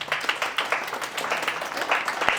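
A group claps steadily and fairly close at a birthday celebration, a continuous patter of many hands with no voices standing out.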